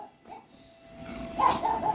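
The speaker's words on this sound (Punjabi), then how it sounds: "ਉਹਦਾ ਹਸਕੀ ਆ ਬਹੁ ਭੌਂਕਦਾ" A husky barks a few short, sharp times close by near the end, after a quieter stretch with a faint steady tone in the background.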